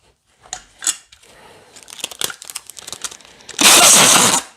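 Adhesive tape pulled and pressed onto a Zakk Wylde Odin Grail Les Paul guitar: scattered close crinkles and sticky clicks, then a loud, steady ripping stretch as a long strip unrolls near the end.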